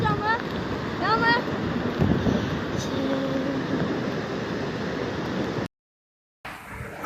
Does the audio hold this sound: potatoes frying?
no